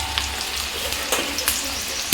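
Chopped potato, capsicum and carrot sizzle loudly and evenly in a hot pan, with a sharper burst at the end as more vegetables go in; no voices.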